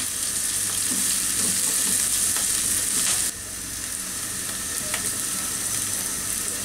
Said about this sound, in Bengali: হাই হিটে ভাজবো, যাতে পেঁয়াজটা একটু পোড়া দাগ লাগে কিন্তু গলে না যায়।